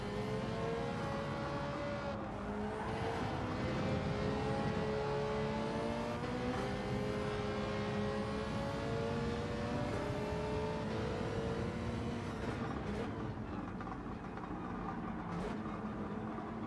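Race cars, including a Ferrari, driving in Gran Turismo 7, a steady loud engine drone with rising and falling pitch as gears shift, several cars close together with occasional sharper whooshes.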